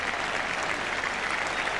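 Yorkshire cricket crowd at a 1977 Ashes Test against Australia applauding a batsman's hundred, a steady, dense wash of clapping and cheering that stays loud and even throughout.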